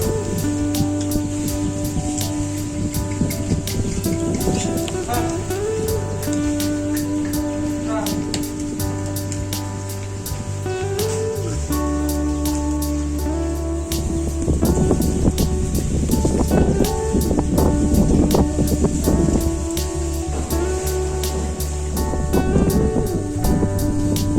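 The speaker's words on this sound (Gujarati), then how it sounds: "જામથી વરસાદ આવેલો આવે છે મિત્રો" Heavy rain pours down in a village, a loud dense wash that runs steadily throughout with continuous hum and rumble underneath.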